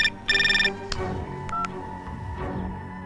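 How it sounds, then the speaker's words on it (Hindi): A quick string of telephone keypad beeps, then a couple of brief electronic tones, all close and clear with no talking. "चल मणि को फोन लगा।"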